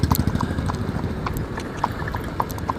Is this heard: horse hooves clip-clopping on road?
yes